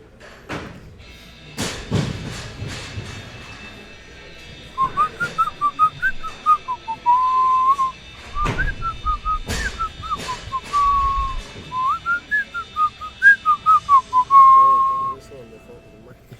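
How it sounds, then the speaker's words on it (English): Someone whistles a wavering, warbling tune close to a microphone over several seconds, with loud thumps and bangs at a weightlifting meet and a few voices in the background. "Like you were whistling on the mic."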